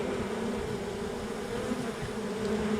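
A honeybee swarm building up drones before swarming makes a continuous, dense buzz, steady and fairly loud throughout with no voices.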